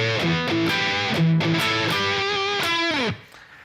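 A distorted electric guitar plays a chugging intro riff with bent notes, ending on a sustained note that slides down and cuts off.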